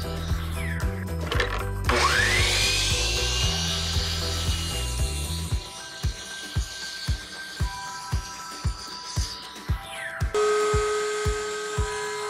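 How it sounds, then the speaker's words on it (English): A miter saw trimming the edges of a wooden board in a workshop, with a loud, sustained whining cut, a pause, and then a series of regular rhythmic knocks as the blade spins down and the piece is repositioned. "here I'm just using the miter saw to clean off the edges"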